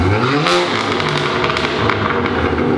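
Cold start of a VW Mk8 Golf R engine, loud and close, a dense throaty exhaust roar that stays at a high, steady level for the whole few seconds with no pauses.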